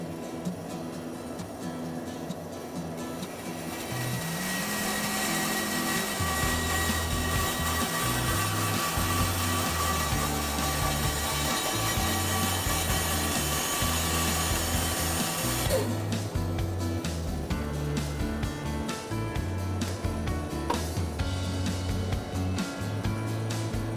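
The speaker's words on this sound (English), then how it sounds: "I just got a big chunk of wood here, and I'll take a couple of quick measurements, and then I'll be going to the bandsaw" Bandsaw cutting through a big chunk of wood, a loud continuous motor whine and rasping cut that runs steadily for around twenty seconds after spinning up, with the tone shifting partway through, in a workshop.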